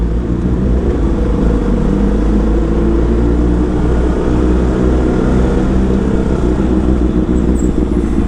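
A passing inline-four motorcycle on red and white rims gives a loud, continuous engine drone that holds steady and close from start to finish.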